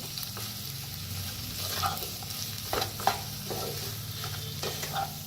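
A spoon stirs and scrapes through a potato vegetable curry seasoned with salt and coriander in a hot pan, with soft sizzling under intermittent clinks and scrapes, close and fairly quiet.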